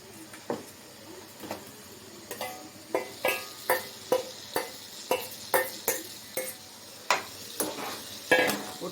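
Boiled eggs and potatoes being stirred into a sizzling masala in a pan, a steady series of sharp scraping spoon strokes about twice a second over a soft frying hiss, close and clear, with no talk.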